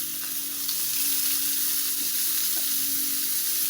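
Onions fry in a hot, slightly smoking pan, a close, steady sizzle with a faint underlying hum and occasional small pops, continuous and unbroken by any voice.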